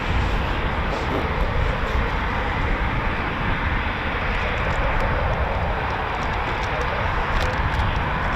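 A steady, loud roar from RAF Typhoon FGR4 jets flying at an Armistice air display, with broad, continuous engine rumble and no distinct passes or breaks.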